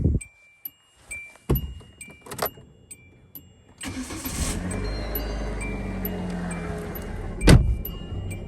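A car with keys jangling and clicks at first, then the engine starting and settling into a steady near idle that carries on as the car pulls away, with a short sharp thump near the end.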